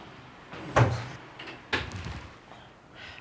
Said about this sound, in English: Do you want to just shut the door a bit?